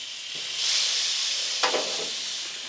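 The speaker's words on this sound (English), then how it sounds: "Now if you can hear that sizzle," Picanha sizzles on a Masterbuilt 545 charcoal grill, a steady moderate hiss of searing fat with a brief sharper crackle partway through, no talking over it.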